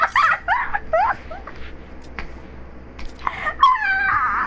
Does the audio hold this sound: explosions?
no